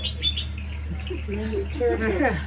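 Birds chirping and calling outdoors during a plein-air portrait painting session, a series of light, moderately close tweets and warbles over a steady low background hum.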